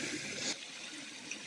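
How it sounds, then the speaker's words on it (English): Water squeezed from a CNOC bag through a filter into bottles on an Appalachian Trail hike, a soft steady hiss and trickle that is stronger at first, then eases to a quieter continuous flow. "and it filters it into our bottles."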